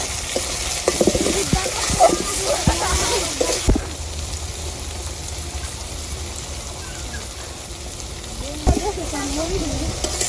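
Pangas fish and onions fry in a pan at a village fish picnic, a steady broadband sizzle running throughout beneath a person talking, with a few brief clatters near the start and end.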